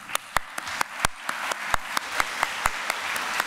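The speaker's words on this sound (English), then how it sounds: "a big applause for you" An audience applauds a speaker after an introduction at a law lecture, with separate sharp claps in an uneven rhythm over a few seconds.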